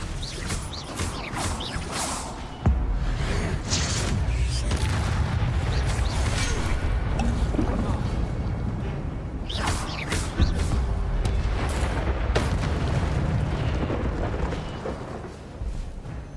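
Expelliarmus spell cast in a Hogwarts video game, with a sharp burst of magical whooshes and booming impacts, followed by sustained rumbling effects and further bursts, loud and close.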